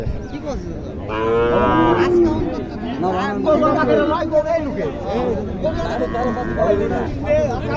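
A Sahiwal bull at a cattle market in Naogaon gives loud, drawn-out moos, several in succession, close by, while people talk and chatter around it.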